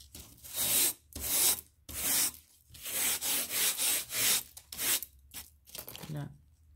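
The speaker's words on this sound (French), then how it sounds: "je vais juste venir frotter un peu pour enlever les petites poussières ou la colle aussi" A basic nail brush scrubs across a diamond painting canvas in rhythmic bursts of bristly rubbing, close and fairly loud, with short pauses between strokes.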